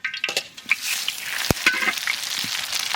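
Whole cumin, radhuni and bay leaf hitting hot mustard oil in a pan, a crackling sizzle with sharp spits and pops and a clink of a spoon stirring, close and continuous.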